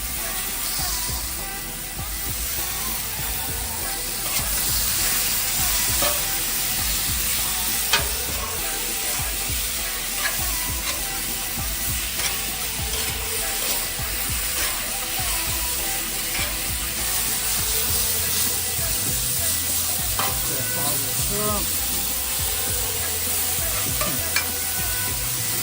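Steak and onions sizzle on a hot grill for tacos, a loud, steady frying hiss that runs throughout, with occasional scraping stirs and faint voices in the background.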